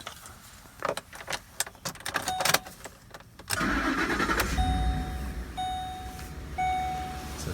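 A Ford F-150 with the 5.4L 3-valve engine, fitted with a new spark plug and coil pack, is started: rattling key and handling noises come first, then the engine cranks and catches into a loud, steady idle with a faint tone on top.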